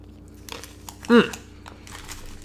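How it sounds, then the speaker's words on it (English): A single crunchy bite into a large Reese's peanut butter cup filled with pretzels, one short close crackle standing out between quiet pauses. "I'm just going to take 1 bite out of this because this is a big cup."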